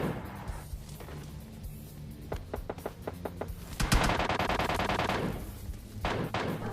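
Gunfire at a vehicle in the mobile battle royale game PUBG Lite: rapid rifle bursts and scattered single shots crack over steady background game ambience, growing denser toward the middle before tapering off.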